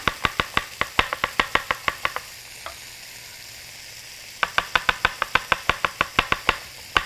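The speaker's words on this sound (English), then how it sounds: "let's just go ahead and chop up some fresh garlic" A knife chops fresh garlic on a board in rapid, even strokes, with a bright tap at each cut. A steady run of chopping stops for about two seconds while a pan sizzles softly, then the chopping resumes.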